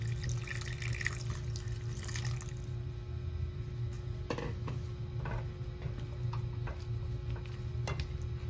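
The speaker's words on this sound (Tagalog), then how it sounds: "mag-add tayo ng tubig" Water poured into a pot of simmering coconut milk with squash while cooking ginataan, a soft trickle and scattered drips over a steady kitchen hum.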